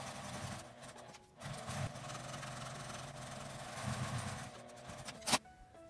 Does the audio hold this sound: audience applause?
no